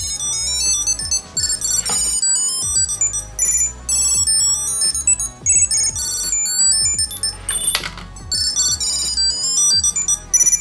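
A Keysmart Pro smart key holder tracker rings with a bright, repeating electronic melody that plays continuously and loudly for several seconds.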